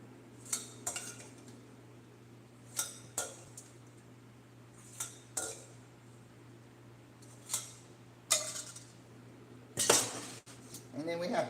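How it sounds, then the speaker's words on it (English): Cooked beans going into a pot of oxtail, with scattered metallic clinks and scrapes of a utensil against the pot over a steady fan hum, growing busier and louder toward the end. "So I'm putting the beans that I cooked in the oxtail."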